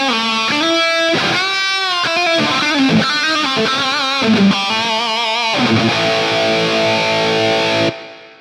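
An electric guitar plays a lead tone from a NUX MG-30 scene 2 patch with 10-band EQ and reverb: a loud, distorted melodic run of picked notes that settles into a ringing chord before cutting off abruptly.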